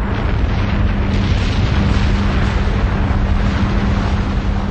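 A hydrogen bomb detonation, shown as a huge sustained roaring rumble that stays loud and dense from start to finish, with no voices over it.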